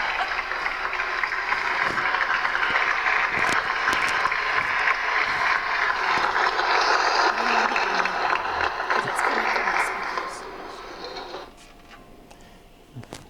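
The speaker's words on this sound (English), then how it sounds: "Yeah, look at the standing ovation." Sustained applause from a school audience giving a standing ovation, loud and dense for about ten seconds before tapering off, with voices mixed in.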